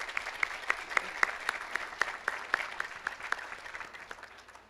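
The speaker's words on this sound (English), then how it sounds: "Round of applause." An audience claps at a college athletics hall of fame induction ceremony. The applause is steady and moderately distant, with a few sharper individual claps standing out over the crowd.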